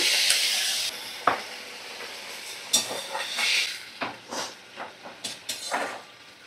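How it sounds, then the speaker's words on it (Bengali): Curry gravy with fried brinjal bubbles and hisses in a pan for a fasa fish dish, a steady simmer broken by irregular pops and soft spatters, close and moderately quiet. "ঝোলটা বেশ ভালোই ফুটে গেছে।"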